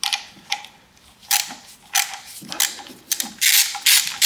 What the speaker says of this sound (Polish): W momencie odkręcania śruba się cofa do tyłu.